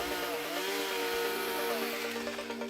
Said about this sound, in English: This is to power the chainsaws.